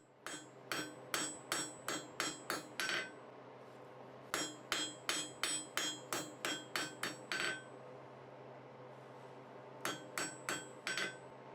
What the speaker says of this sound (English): I can go back to the anvil to do the final shaping